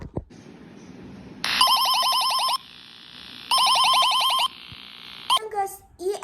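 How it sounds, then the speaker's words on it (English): Sri Lanka's EAS emergency alert alarm plays two loud bursts of rapid, pulsing electronic tones, each about a second long, with a quieter steady hum between them and people talking briefly around it. "But that is the sound of the EAS alarm."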